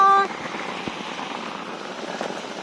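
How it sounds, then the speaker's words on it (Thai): Rain patters steadily on surfaces around a house, a continuous soft hiss with scattered drips, following a brief tonal sound at the start. "เปี่ยนอนฟังเสียงฝนครับ"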